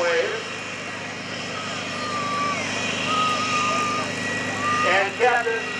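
A P-51 Mustang with a checkered nose, a piston-engined propeller fighter, drones past at an air show as a continuous engine roar that rises and swells, with an announcer's voice and public-address sound mixed in across the open field.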